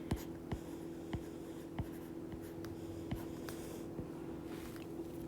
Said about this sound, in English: So I'm going to write this as a fraction.